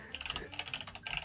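Typing on a computer keyboard while entering text in After Effects, a close, quick irregular run of soft clicks and keystrokes with a brief pause midway, no voices.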